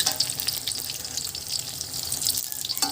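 Small fish omelette frying in a pan in a home kitchen, a steady close hiss and sizzle with crackling pops throughout.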